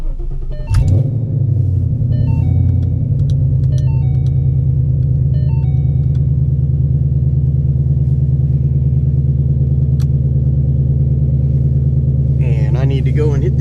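A Ford Mustang engine cranks and starts, then settles into a loud, deep, steady rumble close by. Brief voices come in over the idle, with more talk near the end.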